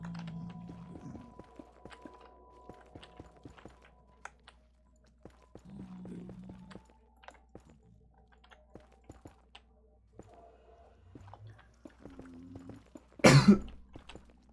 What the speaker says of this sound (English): Dude, I've just got a cough.